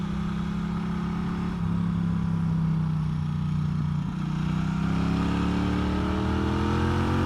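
A Norton Commando 961 CR motorcycle engine runs steadily close by, its low, throbbing parallel-twin note holding continuous, with a brief dip before the pitch climbs as it pulls and revs up.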